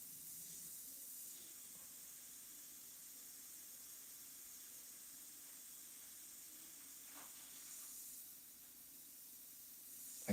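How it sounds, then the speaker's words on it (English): An airbrush sprays paint onto a forest landscape painting, giving a faint, steady airy hiss that runs continuously, with a brief louder puff near the end. "I got to remember to move that airbrush in because the dots will be too big"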